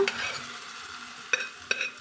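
A sizzling pan as field beans and water are added, with a few sharp clinks of a utensil stirring, short bursts of frying over a steady hiss, close up.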